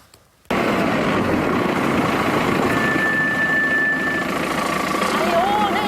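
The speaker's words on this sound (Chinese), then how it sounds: "接下来我们来看看刹车的异音，一起来听听看。" A car's brakes give a thin, high, steady squeal lasting over a second, followed by a brief rising chirp, heard over a constant engine rumble.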